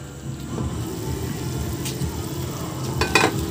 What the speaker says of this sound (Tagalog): So kunting halo lang para hindi kumati.